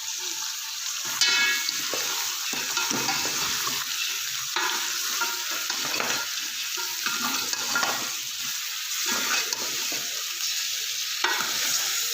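Cleaned, fire-singed goat head and trotters roast in a hot pan, a dense continuous sizzle with repeated scraping stirs throughout.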